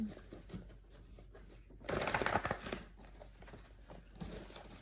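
Playing cards being shuffled in two separate stacks, soft riffling and tapping at first, then a louder burst of quick riffling in the middle, followed by quieter handling.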